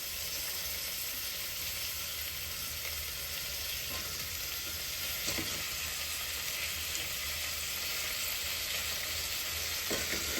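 Tomatoes and other ingredients sauté in a pan for a black chickpea kurma, with a steady, even sizzle and a few soft stirring knocks throughout, and no one speaking.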